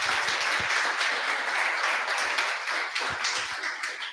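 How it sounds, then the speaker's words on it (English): A round of applause at a coding bootcamp's web development demo day in Lisbon, honoring a marketing and events staff member: steady, dense clapping from a sizeable crowd, loud and sustained throughout without speech. "I'll start with a round of applause for Chiara"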